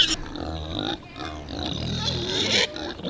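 Loud, harsh squeals and grunting from several hungry pigs at feeding time on a farm, close by, in overlapping bursts with a brief dip partway through.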